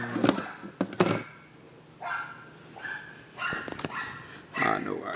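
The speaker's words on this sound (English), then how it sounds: "obviously that's the neighbor's dog" A neighbor's dog barks in the background in a few separate bursts, fairly loud but at some distance, with a person talking in between the barks.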